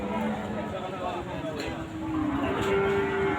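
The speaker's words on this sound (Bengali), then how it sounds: "অনেক সুন্দর একটা গাভী গরু আপনাদের দেখাইলাম।" A cow lows with a drawn-out, rising call amid the steady crowd babble of the Chandaikona cattle market, where people talk nearby.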